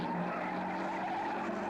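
A 1955 Maserati Formula 1 car spinning off the track at Aintree during the British Grand Prix, a steady, harsh roar of engine and skidding tyres with no break, no voices.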